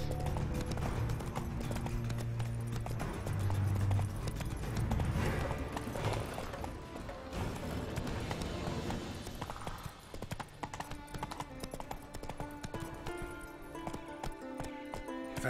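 Horse hooves clatter at a steady gallop in The Witcher 3, a continuous clip-clop running beneath loud game music and ambience for the whole stretch.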